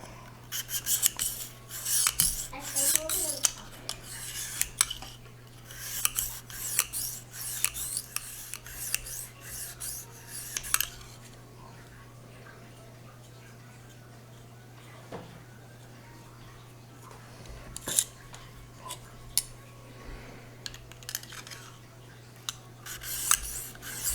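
Repeated rasping strokes of a knife blade drawn across a fine Lansky sharpening stone, coming in quick bursts with short pauses, close and fairly loud.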